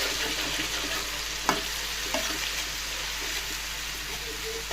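Ginger paste frying in a pan for a fish curry, a steady close sizzle with soft stirring scrapes and a couple of brief spoon knocks, no talk.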